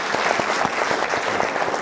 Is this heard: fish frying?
no